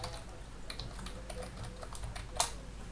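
Password being typed on a computer keyboard while setting up a new user in a WordPress dashboard: a steady run of light, quick key clicks with one sharper tap near the end, close and on its own with no talking.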